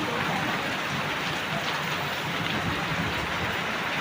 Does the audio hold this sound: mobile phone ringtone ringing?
no